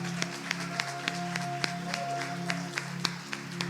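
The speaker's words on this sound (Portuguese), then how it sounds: "Amém, aplauda Jesus." A church congregation claps in a steady, even rhythm over sustained keyboard or organ tones, the claps moderately loud and blending into a continuous beat.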